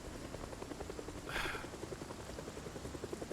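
A helicopter flying over in a zombie video game, a fairly faint rhythmic rotor thudding that pulses evenly through the clip over a low ambient wash, with no voices.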